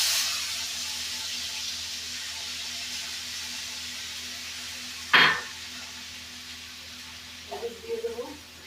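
Chili, garlic and poppy seed paste hitting hot oil gives a steady, loud hiss that fades slowly, with one sharp crackling burst midway and a brief voice near the end.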